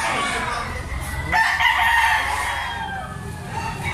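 Chickens at a poultry market selling roosters: one loud, close crow rises over clucking fowl and general market noise, with people talking nearby.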